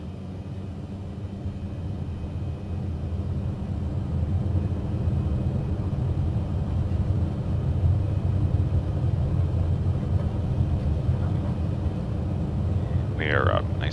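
Small airplane with flaps fully extended takes off from a short runway near Houghton Lake, Michigan, its engine a steady loud droning rumble throughout, building slightly as it climbs.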